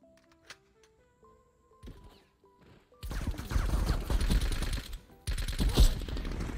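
An automatic gun fires in Call of Duty, starting as sparse taps and then turning into dense, loud bursts of rapid fire that fill the second half with heavy kick.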